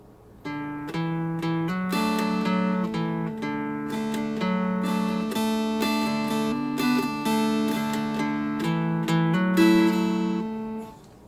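Mountain dulcimer plays a lively melodic phrase over a steady drone, notes strummed rhythmically and close, with no speech.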